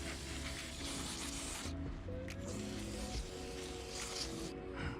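Aerosol spray hissing onto a corroded aluminium windlass part on a sailing boat, several short bursts over a low mechanical hum.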